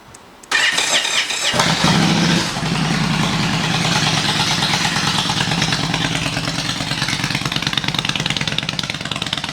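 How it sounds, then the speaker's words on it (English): A Harley-Davidson Softail motorcycle engine runs at a steady idle after a sharp start, a loud, continuous low rumble with a fast even beat that holds for the whole stretch without talk. "We're going to add this to the oil and let this bike run."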